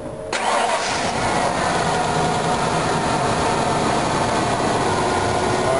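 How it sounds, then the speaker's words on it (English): A truck engine catches right after the starter cranks, then settles into a steady, loud running drone as it warms up, close by with no talking. "the engine's running."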